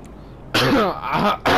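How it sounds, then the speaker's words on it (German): One person coughs several times in quick succession, loud and close, with short gaps between the bursts. "Gott verdammt, einmal nochmal schnell husten."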